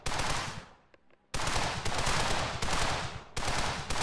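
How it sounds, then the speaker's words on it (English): Bursts of rapid automatic gunfire from blind firing in a shooting video game, loud and close, with a short pause before the firing resumes in long sustained volleys. "Just blind firing."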